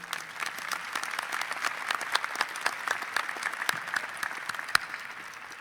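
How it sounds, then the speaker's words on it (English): Audience applause at a graduate fall commencement ceremony, steady crowd clapping sustained throughout, moderately loud and fairly close, with a few sharp individual claps standing out. "Another round of applause for our speaker."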